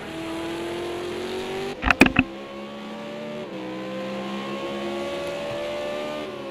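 Race cars in a Supercar series race roar past with sustained, droning engine notes. A cluster of sharp clunks cuts in midway, then the engines keep howling steadily at close range.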